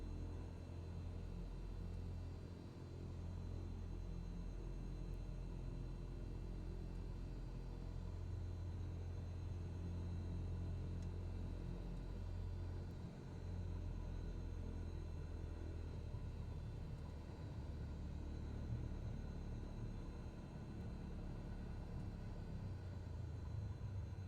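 A Cessna 172SP piston engine in Microsoft Flight Simulator hums steadily as power is added for taxiing. The low droning rumble stays even and continuous throughout, with no talking.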